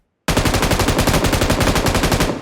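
Sustained automatic gunfire from a weapon in the mobile battle-royale game PUBG Mobile, rapid evenly spaced shots firing continuously for about two seconds, loud and close with no talking.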